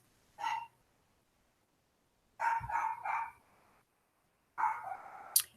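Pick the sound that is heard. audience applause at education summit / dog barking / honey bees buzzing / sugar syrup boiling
dog barking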